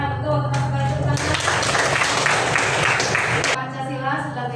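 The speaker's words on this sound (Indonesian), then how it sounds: "tepuk tangan" Applause from a classroom audience, a dense burst of hand clapping that swells for a couple of seconds and then stops, with quieter room sound and murmur before and after.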